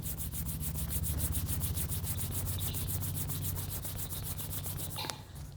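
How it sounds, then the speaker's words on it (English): Two palms rubbed briskly together close up, a rapid rhythmic swishing friction with about four strokes per second, steady and loud for five seconds before stopping, no talk. "Rub your palm."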